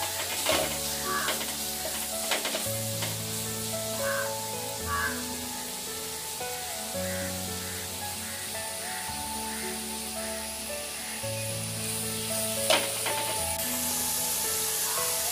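Onions sautéing with salt in a pan, a continuous close sizzle broken by scraping stirs and occasional clinks of a utensil, steady throughout with no talking.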